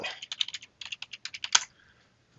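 Someone types on a computer keyboard in a quick burst of close keystrokes, ending in one sharp key press and then a pause.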